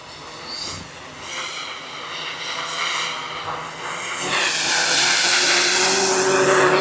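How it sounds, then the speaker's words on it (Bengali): A DJI Air 3 drone flies back toward the listener, its whirring motor drone growing steadily louder and nearer throughout. "ড্রোন চলে এসেছে"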